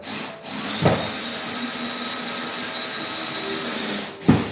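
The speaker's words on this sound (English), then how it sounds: "Those first screws going in, you have a little fighting, but it's gonna go in." A power drill drives screws into a wall to mount an ultra-short-throw projector, a steady whirring grind that runs for several seconds with brief stops and knocks at the start and end.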